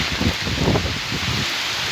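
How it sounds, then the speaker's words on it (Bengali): Heavy rain pours in a dense, steady hiss over a waterlogged city street, close and continuous, with low rumbling beneath and no voices. "বৃষ্টি পড়ছে বৃষ্টি বন্ধই হচ্ছে না"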